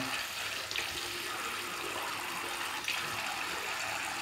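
Warm water runs steadily from a tap during a wet shave, a soft continuous hiss at low level with a couple of faint splashes and no talking.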